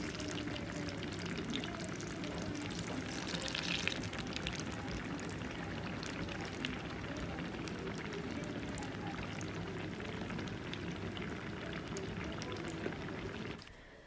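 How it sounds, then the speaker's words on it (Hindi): Eggplant and green chilies frying in a pan, a continuous dense sizzle holding steady and moderately close throughout before stopping at the very end. "यहाँ पर हो रहे हैं फ्राई बैंगन, और साथ में जी मिर्चें"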